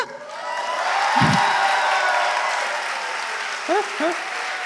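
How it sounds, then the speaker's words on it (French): Applause and cheering from the audience at a regional final of the MT180 science-talk contest, a broad steady wash of clapping and crowd noise at moderate level, with a couple of brief rising whoops near the end. "par vos applaudissements, par vos encouragements"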